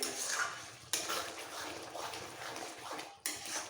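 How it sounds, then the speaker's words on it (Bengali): Rich shahi paneer gravy with cashews is stirred round and round in a pan, a close scraping and gloopy churning that runs continuously with a couple of abrupt breaks and no voices. "এইভাবে ঘুরিয়ে ঘুরিয়ে কষাতে কষাতে গ্রেভিটা অনেকটাই টেনে যাবে"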